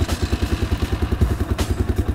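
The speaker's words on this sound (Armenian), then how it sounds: "այսինքն շարժիչը հիմա միացված է։" An engine runs steadily just after being started, with a fast, even low-pitched chugging pulse and a brief clatter partway through.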